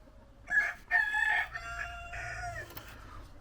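A rooster crows once, a little distant and moderately loud, its drawn-out call rising and then trailing off over a few seconds against a quiet background with no talk.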